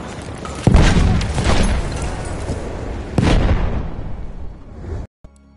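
A grenade detonates in a PS4 video game firefight: two loud, booming blasts a few seconds apart, each a sharp broadband burst that rumbles and fades before the noise cuts out at the end.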